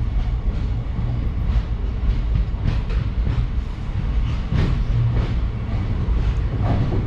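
A Mysuru to Chamarajanagar passenger train hauled by a Krishnarajapuram-based locomotive rolls along the rails, a loud continuous rumble with repeated clacking of wheels over joints, heard from close by without talk.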